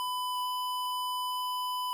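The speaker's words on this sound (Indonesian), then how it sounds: "kami menambahkan buzzer, yang dimana ketika suhu sudah over, dia langsung mengeluarkan suara tiiii, itu menandakan bahwa overheat" An Arduino Uno temperature controller's buzzer sounds its overheat alarm, a single steady high-pitched electronic tone holding unbroken for about two seconds, moderately loud and alone.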